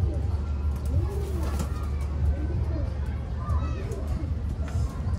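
Racing pigeons coo repeatedly in low, rolling calls close by, layered over a constant rumble, with people talking in the background of the loft.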